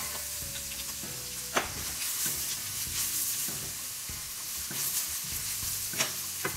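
Shiitake mushrooms stir-fried in oil rendered from Costco Chinese sausage for Taiwanese sticky rice, a soft steady sizzle with sharp scraping stirs of a utensil against the pan now and then.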